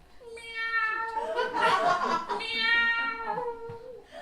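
A voice imitates a cat's meow, stretching out a drawn, wavering mew of about three seconds, loud and close.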